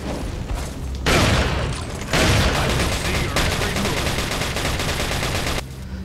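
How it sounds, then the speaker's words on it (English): Shotgun gunfire in the video game Resident Evil 4 remake: loud, dense bursts of shots and mechanical clatter that run almost without a break for about six seconds, with a louder blast near the start. "we gotta get the shotgun out. Blow his ass up"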